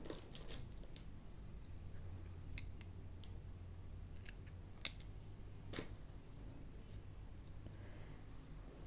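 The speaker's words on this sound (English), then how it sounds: "I'm going to cut my yarn" Scissors snip through crochet yarn in a few quick, faint clicks and cuts near the middle of the stretch, over a steady quiet room hum with no talking.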